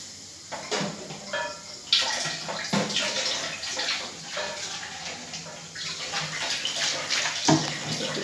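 Water poured into a hot pan while making tea in a home kitchen hisses and sizzles in a steady, close wash of sound, with a few sharper clinks and splashes along the way.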